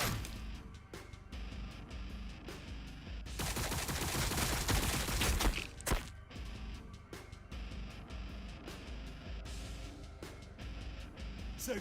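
Sustained battlefield gunfire in the video game Warhammer 40K Battlesector, a dense rattle of shots with a loud, continuous volley in the middle, heavy and close throughout with no talking.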